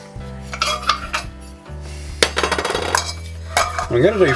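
Metal pie dishes clatter and clink as they are handled and set down on a kitchen counter, a series of sharp knocks and scrapes with no talk.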